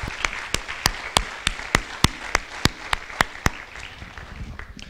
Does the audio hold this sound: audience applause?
yes